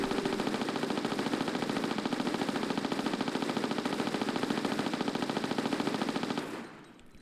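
Uzi submachine guns fire a sustained, rapid automatic burst in Tomb Raider: The Last Revelation, loud and unbroken for several seconds before cutting off abruptly.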